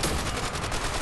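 A trench gun shotgun fires in Call of Duty: World at War, giving one loud, dense blast that fills the whole second with a booming roar and no voices.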